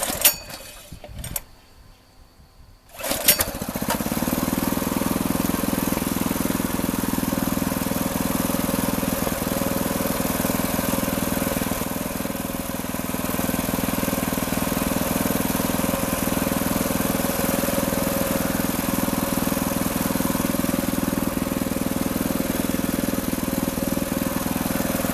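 A Predator 6.6 HP 224cc horizontal-shaft gas engine, running slightly lean, sputters to life after a few seconds of near silence, then settles into a steady, loud, even idle that continues unbroken to the end.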